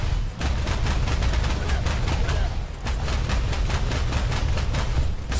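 A loud, sustained burst of rapid automatic gunfire from a Swedish VEAK 40 anti-aircraft gun in War Thunder, shots rattling in a fast steady rhythm for several seconds.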